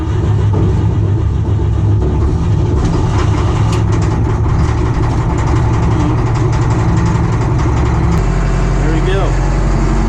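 An old Cat 215 excavator's engine runs with a steady, loud, low rumble throughout, its pitch and load shifting near the end, with a voice speaking over it.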